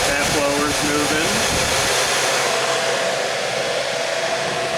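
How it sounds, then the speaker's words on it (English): Blower fan running in a Legends race car being rewired, giving a steady, loud whooshing rush of air that holds evenly for several seconds. "we got some fan movement. That blower's moving."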